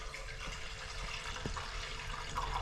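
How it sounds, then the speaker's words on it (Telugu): Water is poured into a pot of lentils before they are boiled, a faint, steady rushing pour lasting a few seconds. "కొంచెం నీళ్ళు పోసుకుని పప్పు ఉడకబెట్టుకోవాలమ్మ"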